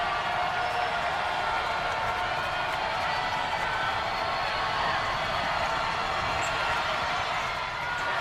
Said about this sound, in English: Jordan Jackson trying to rally this crowd to make some noise. He gets some noise